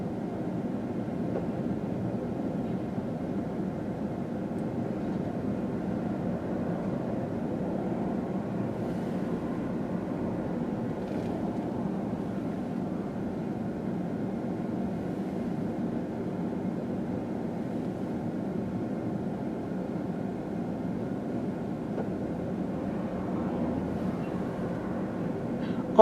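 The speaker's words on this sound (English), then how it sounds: "But this here is what I call a real intermodal train." CSX Q130 long, full intermodal freight train led by locomotive 3209 rolling past, a steady low rumble of wheels and cars that continues evenly for a long stretch without voices.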